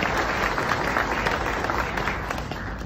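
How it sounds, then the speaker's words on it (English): Graduation audience applause fills the hall, a steady mass of clapping from many hands that holds throughout and eases slightly toward the end, with no speech over it. "how about a round of applause for the countless people that love the class of 2027"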